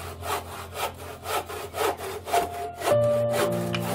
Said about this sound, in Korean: 다음에는 목침만한 크기로 나무를 자르기 시작했다.